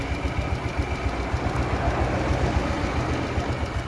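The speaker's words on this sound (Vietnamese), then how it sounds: "máy nổ thật nhanh, đúng là như xe điện á" A Suzuki Best motorcycle engine idles steadily up close, a fast, even low putter with a constant mechanical hum that holds throughout with no talking.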